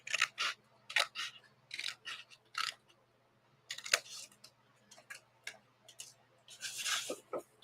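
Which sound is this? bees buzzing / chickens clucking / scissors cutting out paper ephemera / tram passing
scissors cutting out paper ephemera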